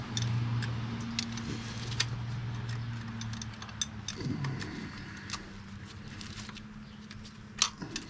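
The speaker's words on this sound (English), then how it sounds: "So we're tightening up the bolts" Bolts are tightened on a newly built header for a first-generation Honda Insight turbo downpipe. Sparse, quiet metallic ticks and clinks sit over a steady low hum, with one sharper clank near the end.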